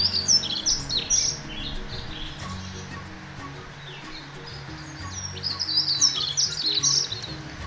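Little terns at their nesting site give sharp, high chattering calls in repeated bursts, moderately close, over a low background hum of other birds and ambient noise.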